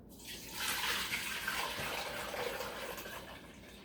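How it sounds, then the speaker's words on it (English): Hot whey left over from making mozzarella poured back into a pot, a continuous gushing, splashing pour that starts abruptly and keeps going at close range, with no talk. "So I'll pour the hot whey from the mozzarella back into the pot."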